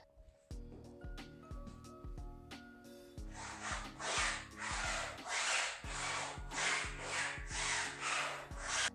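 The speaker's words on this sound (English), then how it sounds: "this TPU piece, as it rubs on the floor, it's kind of loud." A TPU braking strip on the sole of a VR shoe scrapes across the floor in repeated loud rubbing strokes. The strokes come in a rough rhythm, mixed with tonal squeaks and thumps, and the sound is close with no voices.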